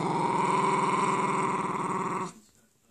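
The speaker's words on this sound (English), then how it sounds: "I wonder if they used Jack Russell dogs to make motorbike sounds in movies." A Jack Russell terrier growls in one close, steady, rumbling run that resembles a revving motorcycle engine, holding for about two seconds before cutting off abruptly into near silence.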